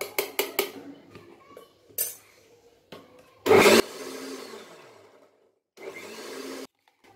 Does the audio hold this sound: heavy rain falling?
no